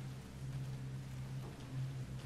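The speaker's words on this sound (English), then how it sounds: "Here comes the rain." Steady rainfall in the game Resident Evil Revelations 2, a soft continuous patter over a low droning hum, faint and unbroken.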